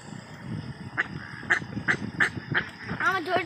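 Ducks quack in a short series of sharp, evenly spaced calls near a pond where people fish for catfish, building to a rapid cluster at the end, with people talking in the background.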